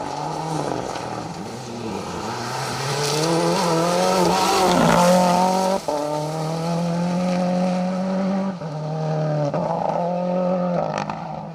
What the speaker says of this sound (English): Jamie Edwards in that S2000 Turbo spec Ford Fiesta, slightly different to the R5s